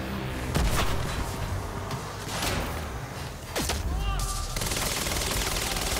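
Gunfire in the video game Quantum Break comes as repeated sharp cracks and rattling bursts over dense action noise, loud and close, with someone talking over parts of it.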